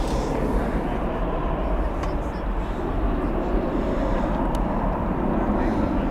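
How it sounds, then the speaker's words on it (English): Steady broadband jet roar from an Eva Air airliner taxiing at Dallas/Fort Worth airport at night, a continuous engine rumble heard from some distance with no talk over it. "Saying that right as Eva Air starts taxiing."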